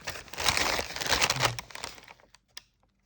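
Paper being unwrapped from a small, heavily wrapped parcel: loud, dense crinkling and tearing for about two seconds, then tapering off into a few isolated rustles close to the microphone.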